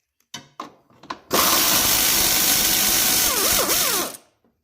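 Power ratchet or impact-style tool spinning out a 10mm bolt on a Ford Mustang during harmonic balancer and AC compressor work, a few short clicks and then a steady loud whirring run of about three seconds that stops abruptly.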